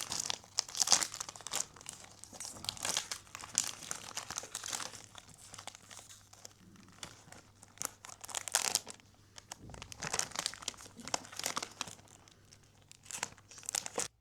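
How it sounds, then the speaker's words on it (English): Cardboard and paper packaging of a Liquid Brun perfume, a dark chocolate-brown box, crinkling, rustling and tearing in close, busy bursts with brief pauses, no voices. "let's dive right in and unbox this thing super quickly"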